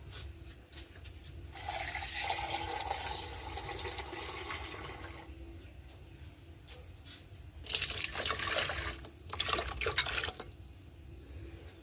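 Water pours into a pot of herbal oil mixture in a steady, quiet stream, followed by brief louder splashing bursts near the end, with no talking.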